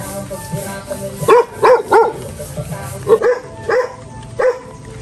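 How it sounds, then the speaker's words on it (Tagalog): A dog barks several times in short bursts at moderate distance, with a person talking quietly underneath. "Meron po ditong aso"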